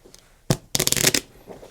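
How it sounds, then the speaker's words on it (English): A deck of playing cards being shuffled by hand, heard as a short riffling burst followed by a longer, louder flurry of flicking cards, close and clear with no talk. "Shuffle the ones in your hand again."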